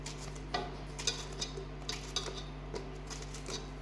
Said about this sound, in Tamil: நாலு வாழைக்காயை நல்லா தோலை சீவி இப்படி பொடியாக நறுக்கி வச்சுக்கிறணும்